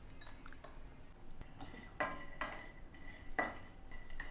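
Dry coconut roasting in a pan while being stirred, with a soft steady scrape and a few sharper metallic clinks of the utensil against the pan, close up and fairly quiet.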